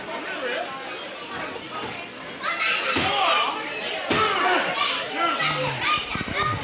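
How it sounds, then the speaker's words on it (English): A wrestler is slammed to the mat by a DDT at an American pro wrestling show in Boiling Springs, a hard thud over a lively crowd of shouting children and chatter. "man, nice DDT."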